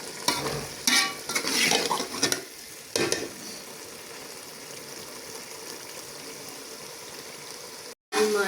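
A spoon scrapes and stirs through spinach and potato curry (aloo palak) in a pan over low heat, several bursts of clattering strokes over a soft background sizzle, then a quiet simmering stretch.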